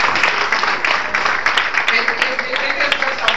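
An audience at a talk breaks into applause, a loud, dense and steady wash of many hands clapping that fills the whole stretch without letting up.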